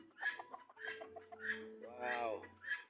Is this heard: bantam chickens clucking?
yes